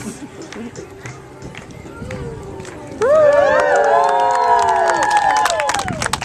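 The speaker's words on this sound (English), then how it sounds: "Thank you for applauding." An audience at an outdoor fair stage show breaks into loud cheering, whistles and applause for a girl-and-rat rope-crossing act, the crowd noise swelling suddenly after quieter murmuring and footsteps.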